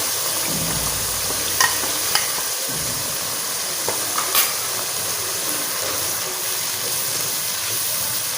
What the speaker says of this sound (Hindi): अभी इसको भून लेते हैं अच्छी तरह।